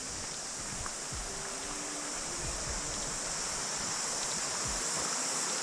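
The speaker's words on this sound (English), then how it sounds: "Wow, look at the waterfalls over there." Waterfalls at a lookout off Collins Drive near Broken Hills in the Coromandel, heard as a steady, even rush of broadband water noise that stays constant throughout, with low thumps of handling or wind.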